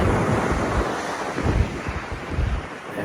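Gusting wind buffets the microphone beside the surf at Bells Beach, with heavy low rumbling gusts that swell and ease over a continuous wash of breaking waves.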